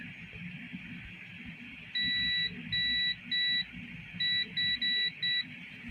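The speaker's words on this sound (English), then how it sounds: "when these two touch, they have connection or continuity. You can hear a beep." A multimeter continuity test beeping as its probes touch, a series of seven short, sharp electronic tones in an irregular rhythm, close over a low hum of room noise, used while modding a PS4 with an ESP32-S2 board.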